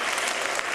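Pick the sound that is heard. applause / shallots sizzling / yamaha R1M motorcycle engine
applause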